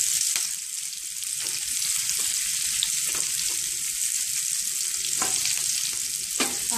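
Vegetables stir-fried for Chinese bhel, with spring onion among them, hiss in a hot pan as a bright continuous sizzle, punctuated by a handful of sharp spatula knocks and scrapes nearby.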